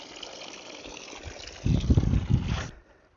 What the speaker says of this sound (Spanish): ahora la vamos a meter en el río un ratito